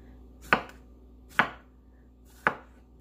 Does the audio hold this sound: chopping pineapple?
yes